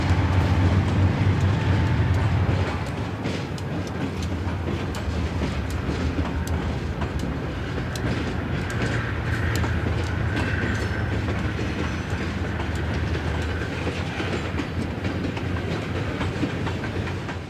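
A heavy freight train on the Nashville & Eastern rumbles steadily past, climbing a 1.06% grade, with continuous low grinding and rhythmic wheel clatter throughout.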